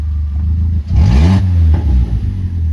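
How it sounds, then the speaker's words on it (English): A Vauxhall Corsa with a damaged exhaust and no muffler revs hard, a loud close blast of engine noise that rises and falls once over a rough idle, with no one speaking. "Just for fun and to annoy the neighbours, let's just rev it."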